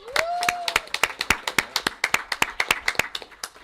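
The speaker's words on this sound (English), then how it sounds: "how about a round of applause and a happy birthday wish to our own Wendy Patrovich" A small group at a township committee meeting gives a round of applause, sparse and distinct claps in a quick, slightly uneven rhythm, close by, with a brief voice sounding at the start.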